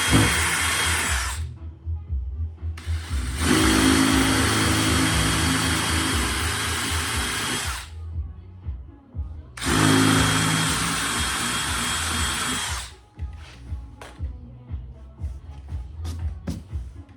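Power drill boring guide holes into a Mk III Toyota Supra bumper, two long loud whirring runs with brief handling noises between and after them.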